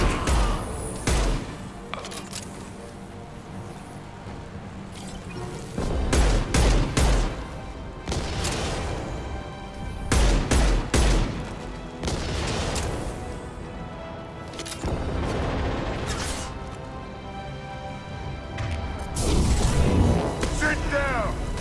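Gunfire and heavy concussive blasts in the video game Mass Effect 2, scattered booming impacts and bursts of shots across a busy combat scene, with characters talking over the fighting.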